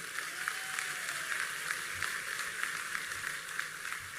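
An audience at a church missionary conference in Goiás applauds, a steady, fairly faint patter of many hands clapping together with no breaks.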